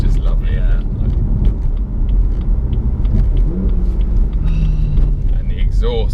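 A BMW M240i on the road, its engine and exhaust burbling and popping through downshifts, a low continuous rumble with crackles, under someone talking throughout.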